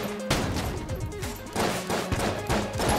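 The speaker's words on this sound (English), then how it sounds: "Okay, well that was just an explosion." Explosions and gunfire in the video game Enter the Gungeon, a series of sharp crashing bursts with rumbling tails repeating roughly every half second to second, loud and close with no voices.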